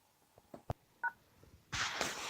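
Several short telephone keypad tones beeping one after another while an ID number is entered, faint and spaced irregularly, followed by a louder burst of hissy noise.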